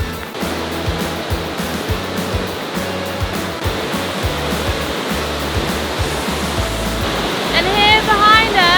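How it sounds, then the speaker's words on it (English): Loud, constant roar of the Una waterfall in Bosnia and Herzegovina filling the scene, close and unbroken, with a brief high squeal near the end. "And here behind us we have the great Una waterfall"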